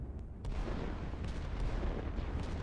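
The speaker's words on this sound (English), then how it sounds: "And the rockets do hit" Rockets strike an island in the strategy video game Line War, producing a low rumbling barrage of dull booms and thuds rolling continuously, muffled and moderately quiet.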